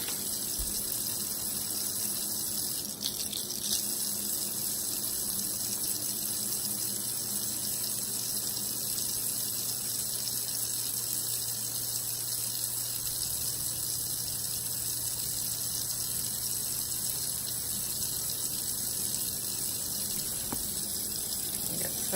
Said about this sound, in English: the best thing about using a sponge is you just rinse it right out.